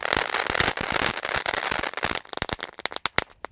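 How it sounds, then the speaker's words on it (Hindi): A Diwali firecracker goes off outdoors with loud, dense crackling pops that run together at first, then thin into separate sharp bangs and snaps toward the end. "इस बॉडी बेल के क्रैकलिंग पॉप्स का और देखते हैं ये कैसा चलता है"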